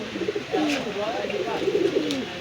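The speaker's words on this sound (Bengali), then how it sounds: "ইন্ডিয়ান বেনারস কবুতর, এই যে নর ছাড়লাম দর্শক, এই যে মাদি ছাড়লাম।" Indian Benaras pigeons coo close by in a soft, rolling series of throaty calls, with faint background chatter and a couple of brief clicks.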